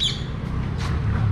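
Parrots in Sri Lanka, a brief harsh squawk at the start followed by a steady low background rumble, the bird calls short and somewhat distant over ambient noise.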